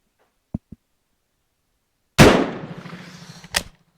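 A Spanish Mauser Model 1893 rifle fires once with a mild old load, a sharp close report that decays over about a second, preceded by two small metallic clicks and followed by a brief clunk.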